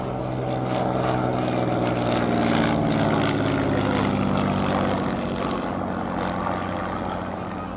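A Ryan Navion L-17 propeller aircraft flies past at an airshow, its engine drone loud, steady and continuous throughout, swelling slightly in the middle before easing off toward the end.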